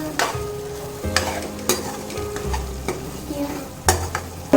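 Small onions frying in oil for Tamil egg curry, a steady sizzle with repeated sharp scrapes and knocks of a spoon stirring in the pan, close and clear.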